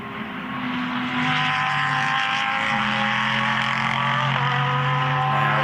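GT3 race cars at Slovakia Ring during an endurance race, a loud sustained engine roar with rising and falling tones as cars pass, steady and fairly close.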